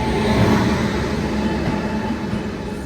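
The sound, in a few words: goods train passing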